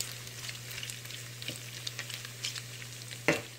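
Pork sizzling and frying in a pan as it browns, a steady crackling hiss with scattered pops and a sharper clatter near the end, with no talking.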